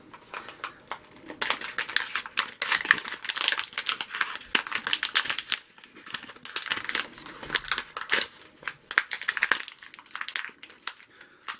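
A Coleman plastic match holder being opened, with irregular crinkling, clicking and scraping of plastic in short bursts, fairly close and moderately quiet.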